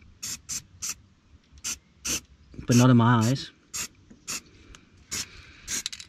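An aerosol can sprays undercoat on a 2008 Subaru Impreza STI in repeated short, sharp hissing bursts, close by, with a person speaking briefly between sprays.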